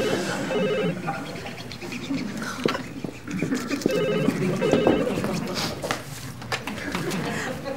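An office desk telephone rings in repeated electronic bursts over a room where voices carry on, the ringing fairly clear and close throughout.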